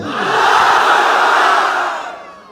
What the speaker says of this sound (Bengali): সিঙ্গেল ভাইরা এবার তাকবীর দেন, লিল্লাহি তাকবীর